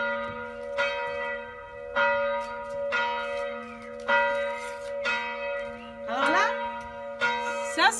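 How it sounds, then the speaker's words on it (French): A church bell tolls steadily about once a second, ringing out with a bright, lingering tone, while a voice briefly murmurs over it near the end. "c'est la cloche de mon église."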